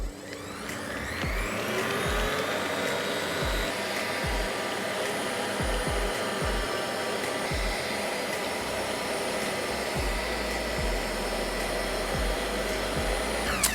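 An electric stand mixer whips meringue for an angel food cake on medium-high speed, a steady loud motor whine with a faint rhythmic beat of the whisk that holds unbroken throughout.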